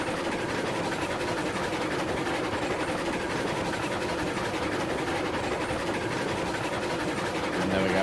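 A locomotive in the train game Railroads Online hauls ten rail cars up a 1.5 percent grade, a steady, dense rumble and rolling clatter holding even and loud throughout with no talk.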